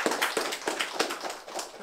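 An audience at a Brazilian freestyle rap battle claps and cheers for the young rappers, a dense wash of applause with rhythmic bursts over about two seconds.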